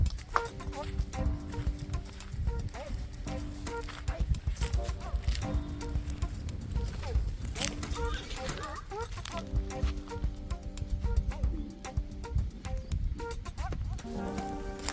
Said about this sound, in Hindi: देखिए इसके ओनर इसे भगा के ले जाना चाह रहे हैं।